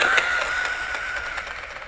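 A 2-cell 7.4-volt electric RC car runs at full throttle, a constant high-pitched motor whine with rapid ticking from the drivetrain, close and fairly loud throughout.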